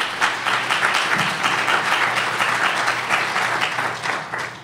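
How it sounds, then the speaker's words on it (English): An audience at the 2013 CBCF Annual Legislative Conference panel applauds a spoken-word performance: brisk, steady clapping from many hands, fairly close and even, with slight swells before it fades out. "Let's give Brandon Douglas a round of applause for his spoken word"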